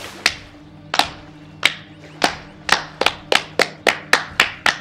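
Single person's hands clapping slowly and loudly up close, about a dozen sharp claps spaced widely at first, then gradually quickening into a steadier beat, with nothing else in between.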